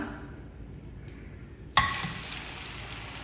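Curry leaf murukku dropped into hot oil for deep frying, with a sudden sizzle burst partway through that settles into a steady, moderately loud bubbling crackle with no talking.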